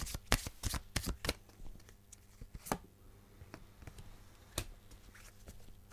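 Love oracle cards being shuffled by hand, a rapid run of crisp riffling slaps and flicks, close and fairly quiet, with scattered pauses and a few separate taps.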